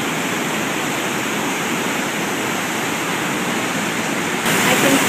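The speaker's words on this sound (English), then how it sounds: "I can feel the spray from this waterfall on my face." Waterfall roaring close by behind a log cabin in Upper Michigan, a loud, dense and constant rush of falling water that swells slightly near the end, with no talking.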